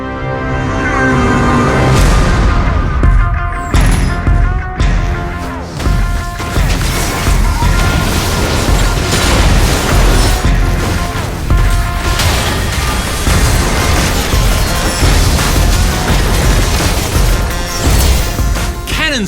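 Game cannons boom and crash in League of Legends: Wild Rift's Ultra Rapid Fire mode, a dense run of explosive blasts and impacts over loud music for the whole stretch, with some voice-like sound mixed in.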